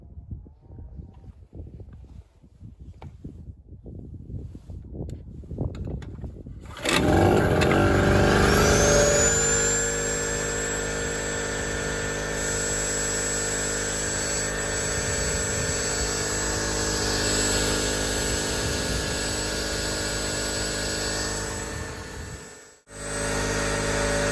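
A Kentavr KBG-078a two-stroke petrol generator starts up after a few seconds of quiet handling noises, then runs steadily and loudly with a constant buzzing drone, cutting out briefly near the end.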